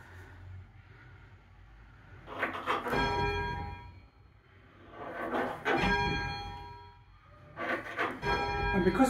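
Church bells at St Ann's Church, South Tottenham, rung by hand on ropes, peal in three loud clusters of overlapping ringing strokes, each decaying into a quieter pause.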